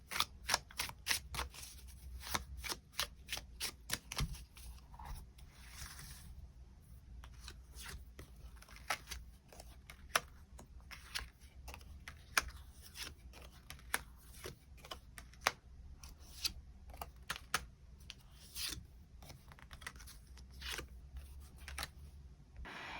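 Tarot cards being shuffled and drawn make a quiet run of crisp flicks and snaps, dense at first and then spaced out, with soft rustling in between and no voices.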